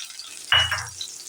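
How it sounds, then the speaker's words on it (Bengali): Onions hit hot oil over a high flame and give a short, loud burst of sizzling that fades within about half a second. No one speaks. "পেঁয়াজগুলো আমি এখন একটু লাল লাল করে ভাজা করে নেব। এটা কিন্তু হাই ফ্লেমেই ভাজা করব।"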